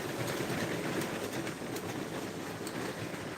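A model train runs on a home layout, giving a steady, continuous rolling rumble with faint clicking from the track throughout, close and even in level.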